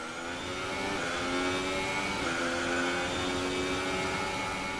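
Racing car engine in F1 2018 at Monaco, entering the tunnel: a loud, steady high-pitched whine with rising harmonics, holding a sustained rev with brief gear shifts and no voices.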